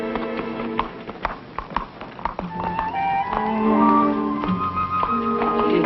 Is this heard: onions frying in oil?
no